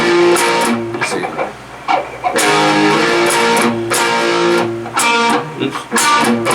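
Loud electric guitar plays a repeated riff, palm-muted chugs and ringing chords, steady and close, with brief dips between phrases.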